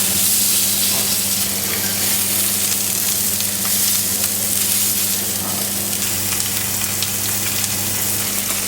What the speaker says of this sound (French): Donc la plancha à 150 degrés. C'est très simple. L'huile d'olive. On commence côté chair.